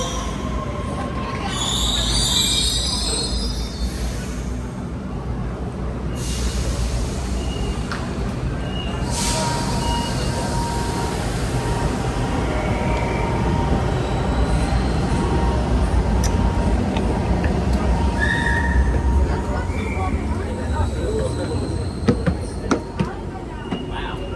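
A double-decker train running through Sydney, with a steady loud rolling rumble, faint wheel squeal and brief high hisses, heard from on board while people talk now and then.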